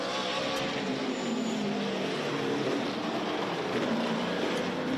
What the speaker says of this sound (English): High above, you can hear the roaring engines.